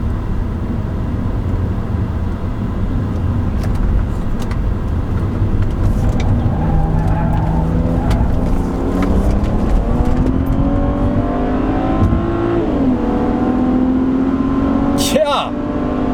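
Engine of a 2008 BMW 335i E90 sedan with the twin-turbo N54 six-cylinder revs up from idle, pitch climbing steadily in a long sweep, dipping briefly, then rising again, heard close and loud from inside the car.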